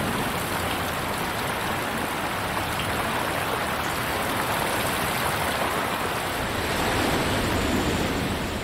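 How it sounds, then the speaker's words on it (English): Heavy rain pours down across the parched Sonoran Desert, a dense, unbroken hiss of falling water that stays steady and loud throughout with no voices. "No soil can quickly absorb this quantity of rain, not even one as parched as the Sonoran."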